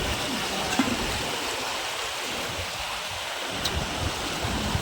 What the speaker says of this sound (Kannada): ಇದು ಕಾವೇರಿ ನದಿ ನೀರಪ್ಪ ಇವು